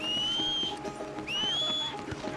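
Two rising, sustained whistle tones called out to summon a horse in Red Dead Redemption 2, fairly clear over a low background of game ambience.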